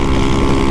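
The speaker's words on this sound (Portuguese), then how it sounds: "Esse escape tá ramelando." A Honda Fan 150 Mix motorcycle's exhaust sputters in a steady, rough, close-up drone, with no voices over it.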